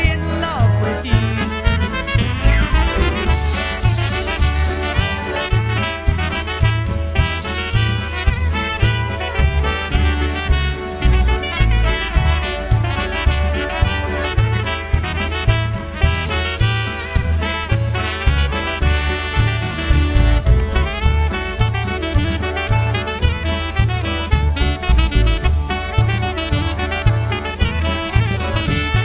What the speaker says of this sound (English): That's the sound of America's polka sweetheart